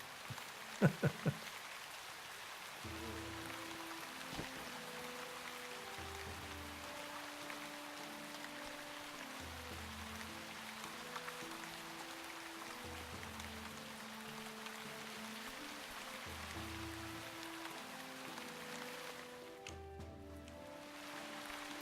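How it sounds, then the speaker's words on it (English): Steady, faint rain falls throughout the fantasy role-playing game Shroud of the Avatar, a soft even hiss with a gentle musical tone drifting beneath it and a few clicks early on. "When I go under the archway, the rain sound stops."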